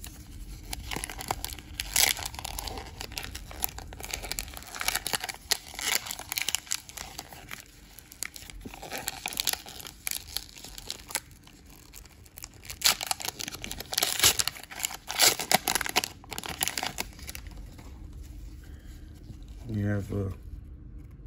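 Gypsy Queen baseball card pack from a Walgreens blister pack being opened, with repeated crinkling and tearing of foil wrapper and shuffling of cards, close up, under intermittent talking.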